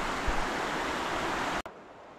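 Steady rushing water of a river flows continuously, a broad even wash, cutting off abruptly near the end, at a riverside campsite in Liliw, Laguna.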